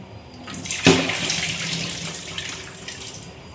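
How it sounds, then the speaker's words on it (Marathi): Water is drained from a pot of washed wild leafy greens, pouring and splashing steadily, with a sharp surge near the start, then streaming and gurgling until it tapers off near the end. "हे बघा, पूर्ण पाणी काढलं."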